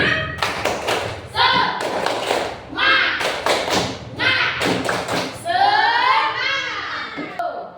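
A school class of children doing the rhythmic tepuk semangat spirit clap, sharp patterned claps and thumps mixed with kids' chanting voices, loud and close in a classroom.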